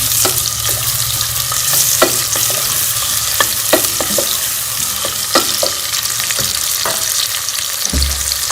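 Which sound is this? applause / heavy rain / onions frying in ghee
onions frying in ghee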